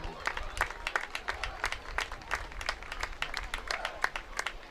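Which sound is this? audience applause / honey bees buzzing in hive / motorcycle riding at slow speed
audience applause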